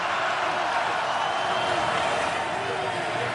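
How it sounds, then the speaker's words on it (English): A stadium crowd at an NFL game roars steadily behind a commentator's voice, a broad, sustained wash of cheering that stays even throughout. "Crowd getting into it for the Titan defense"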